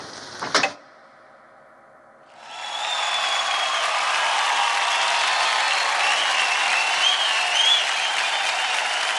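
Studio audience on a televised dance competition show bursts into sustained applause after a brief noise and a lull, the clapping swelling and holding steady, dense and loud, with no talk over it.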